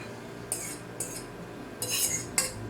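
Salad tossed with metal cutlery, giving a few sharp clinks and scrapes in separate bursts, with a longer clatter of utensils against the bowl near the end, close and moderately loud.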